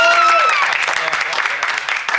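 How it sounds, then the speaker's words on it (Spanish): A studio audience breaks into a loud burst of applause on a television show, brief and dense, with voices and a shout mixed in at the start. "Otro fuerte aplauso para..."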